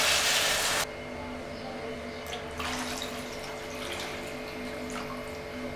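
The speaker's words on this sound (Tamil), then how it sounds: "ரெண்டு கப் தண்ணி ஊற்றிங்க" Two cups of water running steadily into a cooking pot while making rava kichadi, a continuous splashing rush with a brief louder burst at the start and faint clinks throughout.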